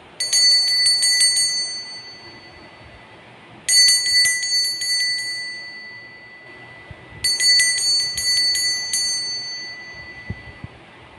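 A small bright bell rings three times at even intervals to signal a start. Each strike sounds clear and close, and every ring fades out before the next one.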